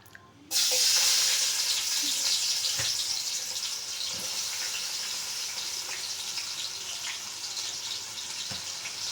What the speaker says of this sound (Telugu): ఆయిల్ బాగా హీట్ ఎక్కింది. ఆనియన్స్ వేయాలి.